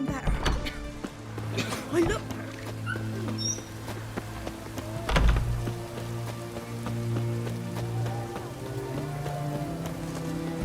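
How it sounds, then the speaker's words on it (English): Rain falls steadily in The Witcher 3, a continuous patter on surfaces with scattered drips and a low ambient hum beneath, plus a few soft knocks and thuds, holding even throughout. "Looks like rain."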